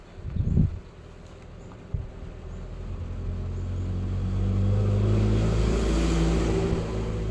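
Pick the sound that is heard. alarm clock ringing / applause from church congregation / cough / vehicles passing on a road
vehicles passing on a road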